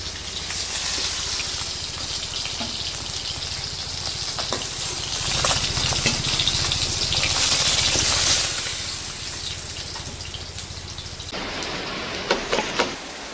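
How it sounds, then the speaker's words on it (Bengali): Water gushes steadily into a hot pan of fried fish, splashing and hissing for several seconds before the pouring stops near the end. "মাছ রান্না করার জন্য দিয়ে দেবো জল।"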